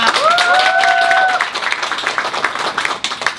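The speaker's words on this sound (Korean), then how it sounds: "많이 박수 쳐주시고요" Audience applause for a chicken restaurant owner taking the stage at a business seminar, clapping filling the room loudly at first under a brief tonal sound, then tapering off.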